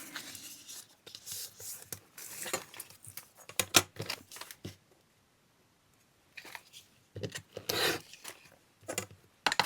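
Paper being cut with scissors at a craft table for a gatefold journal page, close and quiet: clusters of crisp snips and rustles come in bursts, with a silent pause in the middle and no talk.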